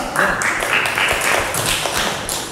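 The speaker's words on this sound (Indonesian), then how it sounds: "Oke, beri tepuk tangan dulu untuk kelompok 2" A classroom of students claps for a presenting group, a brief burst of dense hand clapping with a few louder slaps in a school teaching-practice session.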